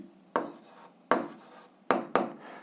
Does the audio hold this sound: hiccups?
no